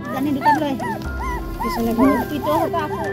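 Puppies of a dead dog in a village whimper and yip in thin, rising cries, several overlapping close by over a low background murmur.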